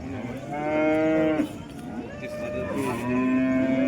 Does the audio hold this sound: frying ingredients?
no